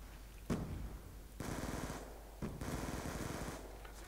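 Scorpion submachine gun firing in a video game: several quick rattling bursts of automatic fire, each lasting around a second, fairly faint against steady background noise.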